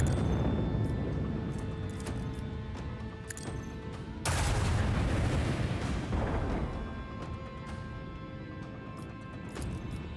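A missile explodes in the video game Warhammer 40K Rogue Trader, one sudden loud booming blast midway with a rumbling tail over a couple of seconds, amid steady battle ambience and scattered smaller impacts.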